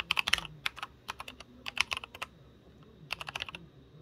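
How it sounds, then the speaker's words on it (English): Close, crisp keystrokes tap in quick irregular bursts with short pauses between them, typing on a computer keyboard with no talking. "typing this on the on-screen keyboard's a real drag, so I'm gonna be using my real keyboard"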